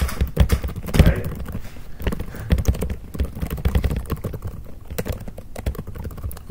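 Rapid, uneven clicking of keys on a computer keyboard, close and steady, with a few louder taps and faint background room noise.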